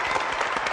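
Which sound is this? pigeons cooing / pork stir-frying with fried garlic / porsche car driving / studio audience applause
studio audience applause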